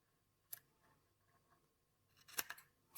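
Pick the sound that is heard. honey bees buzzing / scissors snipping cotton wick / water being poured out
scissors snipping cotton wick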